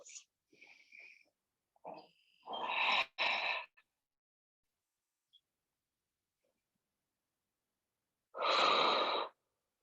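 Slow, deep breaths during a yoga pose in a community class: a few soft inhales and exhales, the longest near the end, separated by quiet pauses.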